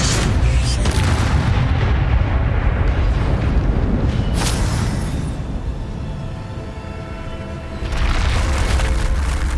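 Incendio fire spell blast in the Hogwarts Legacy video game on PS5, a loud sustained roaring burst with booming low rumble, easing briefly before surging again.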